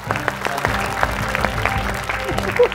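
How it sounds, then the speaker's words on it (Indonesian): A small group claps in a brisk, steady burst of applause, close and fairly loud, with a voice briefly heard at the end. "Apa tepuk tangan loh?"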